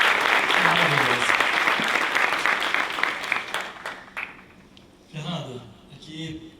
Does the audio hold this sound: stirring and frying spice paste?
no